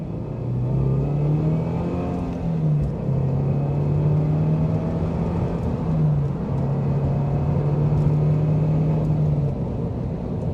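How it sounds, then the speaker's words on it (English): A Subaru BRZ/GR86 fitted with an HKS Hi-Power Spec L2 exhaust accelerates hard, its steady engine note rising with brief dips at the gear changes. The drone stays loud and close throughout, with no voices. "Well, honestly, it is a very nice sounding exhaust."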